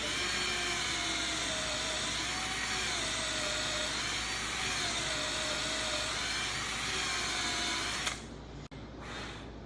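A drill with a countersink bit bores into a laminated wooden boat stem, a loud, continuous whine that wavers slightly in pitch for about eight seconds before stopping abruptly.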